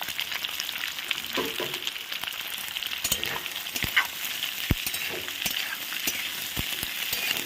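Cubed onions and green chillies sizzle steadily in hot oil in a pan, with a bright continuous crackle broken by clear scrapes and knocks as the spatula stirs them, close and fairly loud with no talking.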